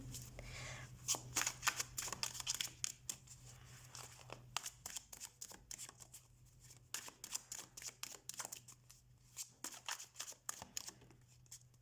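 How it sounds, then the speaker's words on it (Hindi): Tarot cards being shuffled by hand, a long run of quick papery riffles and slaps in close, quiet bursts with short pauses, over a steady low hum and no talking. "तो हम कार्ड शफल कर लेते हैं।"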